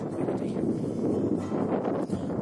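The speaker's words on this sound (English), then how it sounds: "the wind's picking up. And I haven't got a furry hat on this camera." Wind buffets an outdoor camera microphone without a furry windshield, a steady loud rumbling roar that continues without pause.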